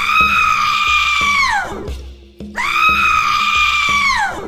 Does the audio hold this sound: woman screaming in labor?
yes